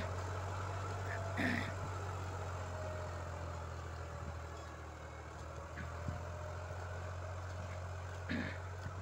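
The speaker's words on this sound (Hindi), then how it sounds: "जो टीलर है पूरा जमीन में उतार दिया ट्रैक्टर ने" A New Holland 3037 39 HP tractor engine drones steadily while pulling a tiller through soil, a low constant hum with faint intermittent clanks and someone speaking over it.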